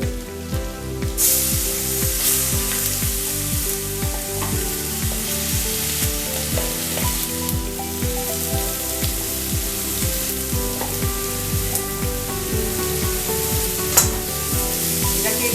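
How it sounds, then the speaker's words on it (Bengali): Ginger, chopped green chilli and cumin seeds frying in a pan for beetroot kachori, a loud continuous sizzle with crackling spits and stirring scrapes throughout, no talking. "আমি এখানে শুধু আদা আর লঙ্কা কুচি এবং জিরে ফোড়ন দিয়ে এটাকে একটু আমি ভাজা ভাজা করে নেব"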